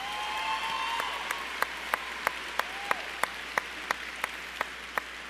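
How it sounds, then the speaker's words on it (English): Audience applause at a secondary school graduation ceremony in a large hall, a steady wash of clapping with sharp, regular percussive clicks sounding at even intervals over it. "And I also want another round of applause for the generosity of our scholarship and bursary donors in this community."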